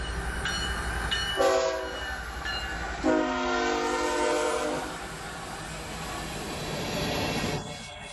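A train passes a level crossing, sounding its horn in two long blasts over a rumbling, clattering run of wagons that stays loud and close.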